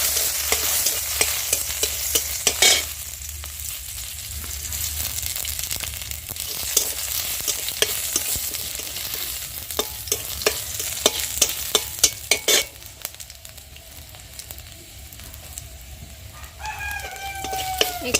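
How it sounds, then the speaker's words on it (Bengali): Crushed garlic, radhuni spice and pumpkin fry in a hot wok, a continuous close sizzle with repeated stirring scrapes, and a rooster crows faintly in the background near the end. "কড়াইটাও তেতে গেছে, তো এতে আমি দুটো রসুন থেতো করে রেখেছিলাম, সেই দুটো দিয়ে আর দুটো রাঁধুনি দিয়ে কুমড়া দিয়ে নেব"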